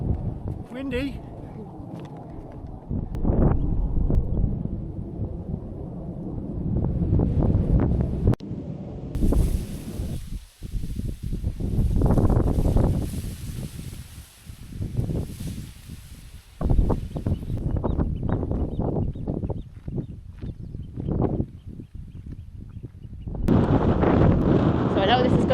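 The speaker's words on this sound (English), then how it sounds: "It's really windy." Strong gusts buffet the microphone along the Norfolk coast path near Holkham, roaring in uneven bursts with brief lulls, while a person talks intermittently over the wind.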